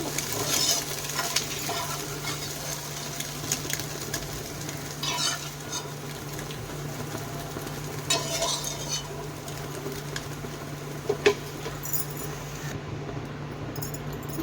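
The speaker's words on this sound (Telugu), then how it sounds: "ఎగ్ ఇలా బాగా ఫ్రై అయిపోయిన తర్వాత ఒక ప్లేట్లో తీసుకోవాలి" Egg frying in hot oil in a pan for chicken fried rice, with a steady soft sizzle under scattered clinks and scrapes of a utensil stirring against the pan, close and fairly quiet throughout.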